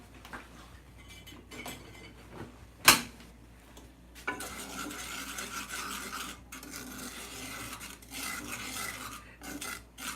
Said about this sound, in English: I'm going to stir that around so it doesn't burn